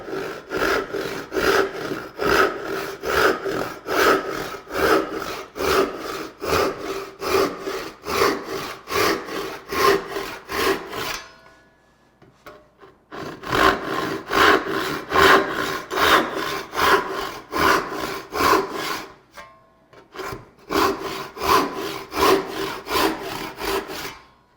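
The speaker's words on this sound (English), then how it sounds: "Now the coping saw I have set up to cut on the pull stroke." A coping saw set to cut on the pull stroke works through wood for a half-lap joint, making a steady rhythm of close, raspy strokes with two brief pauses.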